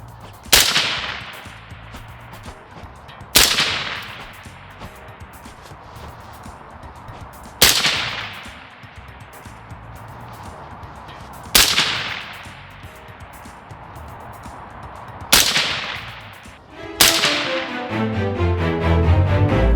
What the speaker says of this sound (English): I'm going to shoot a few more at 50